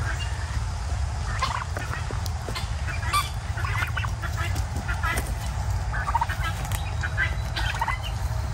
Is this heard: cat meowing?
no